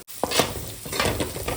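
Onions and garam masala frying in a pan in a village-style home kitchen, with a utensil scraping and stirring through the sizzle in several close, uneven strokes.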